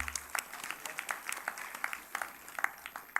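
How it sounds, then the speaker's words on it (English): Audience applause at a higher education conference, a scattered patter of hand claps from a modest crowd, fairly faint and steady with uneven sharp claps throughout. "We can give an applause for him."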